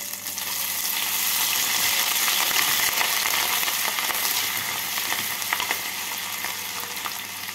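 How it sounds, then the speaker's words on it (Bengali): Grated ginger fries in oil with tempered spices while being stirred, a steady close sizzle with scraping stirs, for chirer polao. "ফোড়নটা হয়ে গেছে, এবার এর মধ্যে দিয়ে দেবো গ্রেট করা আদা।"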